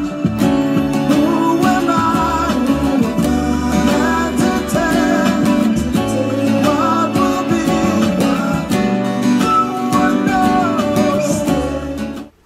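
An acoustic guitar strums back and forth between two chords in a steady, even rhythm, ringing full and close for about twelve seconds with no voices.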